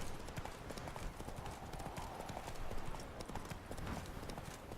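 Roach the horse in The Witcher 3 trotting with a quick, steady clip-clop of hooves, close and continuous over a low background rumble, with no speech.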